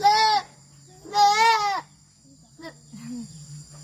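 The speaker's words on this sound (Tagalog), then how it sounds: "So I have to control the goat like that so he can't move." A goat being held bleats twice in loud, wavering cries close by, followed by softer short sounds and quiet background hum.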